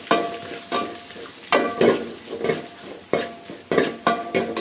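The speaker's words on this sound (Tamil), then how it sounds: "சின்ன வெங்காயம் உள்ளே போட்டதுக்கப்புறம் நீங்கள் வந்து ஆப்பை எடுத்து கிண்டி விட்டுக்கலாம்." Shallots frying in a pan are stirred with a ladle, giving a run of six or seven rhythmic scraping, clattering strokes over a soft, steady sizzle, close and fairly loud.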